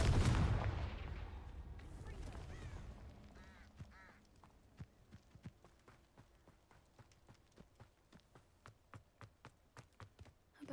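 A Confringo blasting spell in Hogwarts Legacy goes off as a loud burst that decays over a few seconds, followed by a run of quiet, evenly spaced clicks.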